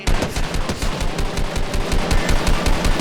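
Rapid, loud automatic gunfire in the battle royale video game Fortnite, a dense run of close shots firing in quick succession for the whole stretch with no talking.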